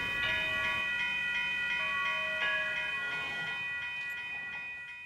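A train rolls along railroad tracks nearby, a loud continuous rumble with sustained ringing, screeching metallic tones layered over it, slowly fading toward the end.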